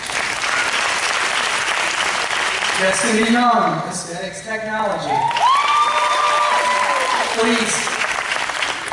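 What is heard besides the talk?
audience applause for graduating students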